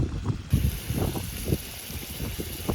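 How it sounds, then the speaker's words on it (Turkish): Strong wind buffets the microphone in low rumbling gusts at a canyon campsite, with a constant hiss of rushing air and no voices. "Burada çünkü çok fazla rüzgar var hala."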